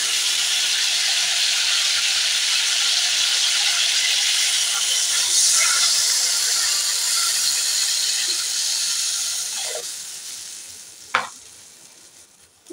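Thick-cut papaya pieces sizzling and hissing loudly in a pan after a splash of water is added, a steady frying roar that fades near the end with a few clanks of stirring.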